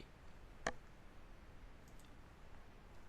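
A computer mouse gives a single crisp, faint click early on, then only a quiet room hiss follows.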